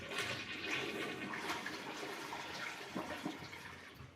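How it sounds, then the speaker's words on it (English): A toilet being flushed with the supply valve shut off during a TOTO Washlet bidet seat installation in a home bathroom, giving a steady rushing gush of draining water that holds throughout at close range. "Step one, we're gonna turn off the water and flush the toilet."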